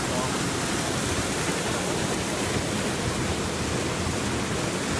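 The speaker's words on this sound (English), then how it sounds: "That's like a total like waterfall." A waterfall at Shady Cove, a constant dense rush of falling water, loud and close, with no break.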